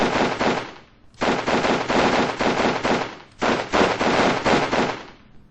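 Rifles fire in rapid, sustained bursts in a World War II video game battle set in winter, loud and close, with two short pauses between long volleys.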